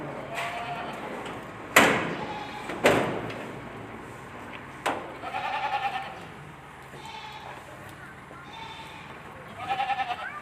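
Goats on a goat farm bleat in short, wavering calls spaced through the scene, moderately close, mixed with several sharp knocks and clatter from the pen.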